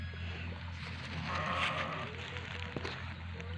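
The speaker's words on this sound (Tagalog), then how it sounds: "ito ang mga karnero" Sheep bleat on a farm where goats are also kept, one drawn-out bleat rising over a steady low rumble of background noise, fairly close.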